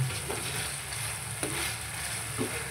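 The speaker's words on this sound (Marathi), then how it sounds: "कोळंबी आपली शिजत आहे मस्त" Prawns marinated in ginger-garlic paste and masala sizzle and fry in a pan for a tawa fry, a steady close hiss with a few soft stirring scrapes, no talk.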